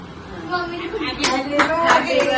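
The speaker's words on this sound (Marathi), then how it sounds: "टाळ्या वाजवा" At a family birthday celebration, hands clap in a handful of sharp, close bursts that pick up in the second half, with family voices, including a child, heard alongside.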